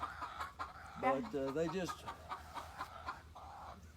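Chickens cluck in a coop, including a clear drawn-out rhythmic cackle near the middle and softer clucks around it, quiet and close, with a man's brief speech mixed in.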